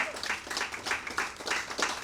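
A hall audience applauds two performers after their Negro spiritual selections. The clapping is moderate and swells in regular pulses.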